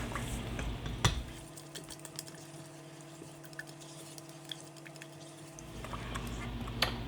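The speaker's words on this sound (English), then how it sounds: "I'm going to start with the evaporated milk, the tablespoon of vanilla, and I'm going to combine." A utensil stirs evaporated milk and vanilla in a pot for brown sugar pie filling, with soft liquid swishing and occasional light metallic clinks against the pot, close and quiet over a low background hum.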